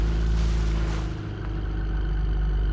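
An off-road SUV or pickup engine in BeamNG.drive roars loud and steady on an off-road map, with a brief dip in revs before it picks back up with continuous throttle.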